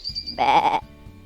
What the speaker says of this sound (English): There are sheep. Baa, baa.